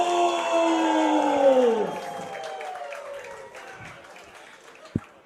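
A crowd at a wrestling event in the Bloomington Event Center cheers and applauds beneath a long announcer's call, and the noise fades toward the end of the clip.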